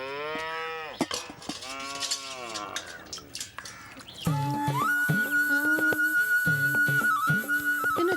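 A cow moos several times in long, drawn-out calls up close, followed by a cowbell-like clanking and a sustained whistling tone.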